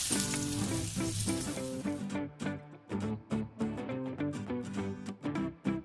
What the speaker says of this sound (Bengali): তার মধ্যে পেঁয়াজ দিয়ে ভালোভাবে নাড়াচাড়া করে ভাজা ভাজা করতে হবে